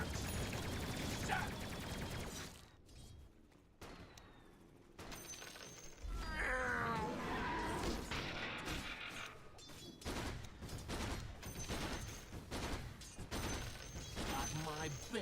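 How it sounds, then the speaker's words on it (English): Rocket barrages and fireworks go off in a video game as dense bursts of blasts, crackling explosions and rumbling impacts, with a short quieter lull before the barrage resumes loudly. "Rocket barrage! What? Fireworks!"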